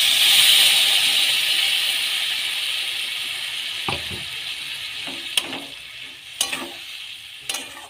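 Water poured into hot cooked spice masala in a pan for jackfruit-seed and lafa chorchori: a loud hiss and sizzle bursting up at once, then fading, followed by a few stirring scrapes and knocks.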